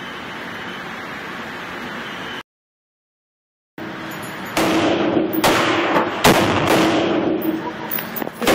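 Gunshots from a firearm called the Cockweasel at an indoor range: several loud, sharp reports in an irregular run, arriving after an earlier stretch of steady noise and a brief silence.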